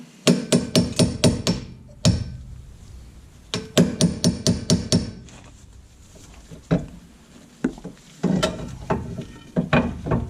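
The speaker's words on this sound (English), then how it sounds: "I'm going to use a hammer." Sharp hammer blows on rear brake parts of a 2016-2018 Honda Civic, in quick bursts of several strikes, with pauses between groups and a few single taps, loud and close, no talking.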